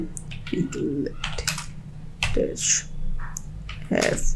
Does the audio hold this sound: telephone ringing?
no